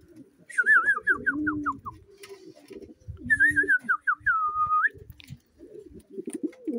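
Pigeons coo nearby in soft, repeated throaty phrases, joined by fluttery whistling trills that rise and fall in two bursts.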